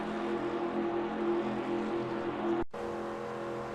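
Race car in NASCAR Racing 2002 at Talladega Superspeedway, held at full throttle near 185 mph: a steady, loud, buzzing engine drone that runs unbroken, cuts out for an instant near the end, then resumes.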